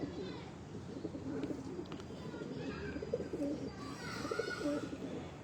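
A Teddy breeder pigeon and loftmates coo in repeated throaty rolls close to the mic, while a person talks over the birds.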